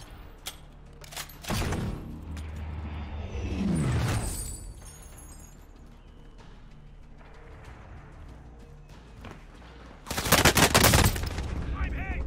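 Gunfire in the Call of Duty Warzone video game comes as loud bursts of automatic fire and single shots, with a long rushing whoosh in the middle and a heavy final volley. Game voice lines play between the shots.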